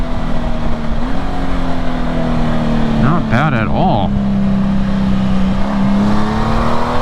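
Honda Gold Wing GL1800 motorcycle with flashed engine tuning and extended RPM, riding with a steady engine drone that climbs and falls through a brief rev midway, recorded close from the saddle while the rider talks.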